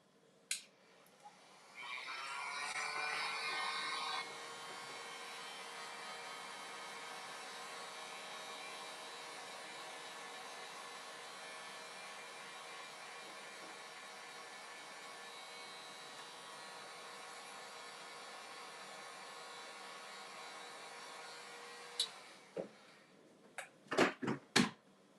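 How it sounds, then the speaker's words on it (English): Heat gun on its low setting, used to soften Worbla thermoplastic, blowing as a steady broadband hiss for about twenty seconds, then switching off, followed by a few handling clicks. "this is the low setting of my heat gun"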